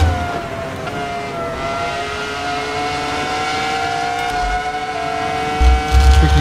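A Ferrari F2004 with a V10 engine at Silverstone in Assetto Corsa holds a sustained high-pitched engine wail with steady whining tones, then a short low rumble near the end.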